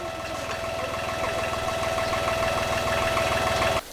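An old tractor engine, nearly thirty years old, runs steadily at a fast, knocking idle, loud and close, with a constant rattling throb that continues unbroken until it stops abruptly near the end.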